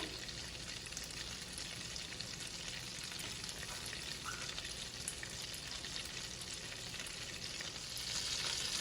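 Meatless meat mix frying in a pan with melted fat, a steady, close sizzle with soft stirring scrapes throughout and no voices.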